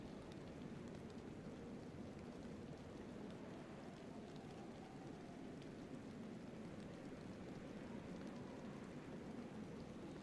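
Steady rain falls in the DayZ video game, a soft, even wash of drops with no breaks, quiet and continuous throughout with no voices.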